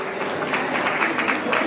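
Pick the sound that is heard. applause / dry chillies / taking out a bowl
applause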